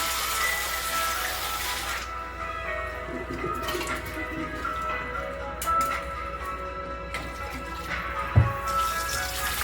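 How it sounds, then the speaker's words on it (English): Water runs and splashes steadily, like a tap over a sink while raw chicken is washed by hand, with occasional louder knocks and sloshes. "you have to wash this chicken 3 times."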